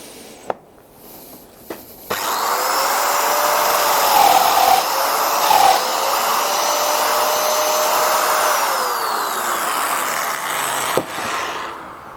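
A Festool Domino joiner plunges into a shelf board, its steady whining motor running for about nine seconds after a couple of sharp knocks, with the pitch dipping slightly as the cutter bores the mortise.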